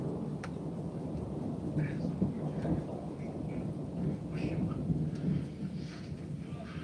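A thunderstorm's low, continuous rumble of thunder rolls along with steady rain, fairly distant and sustained, with no clear single crack standing out.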